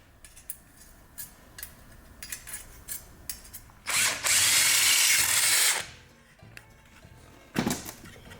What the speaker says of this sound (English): So I'm going to drill this out so that fuel line goes through there.